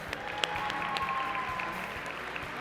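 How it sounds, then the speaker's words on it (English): An awards-ceremony audience claps for the finalists in steady, moderate applause that holds evenly throughout, with a faint sustained tone beneath and no talking. "Let's have a big round of applause for all of our finalists."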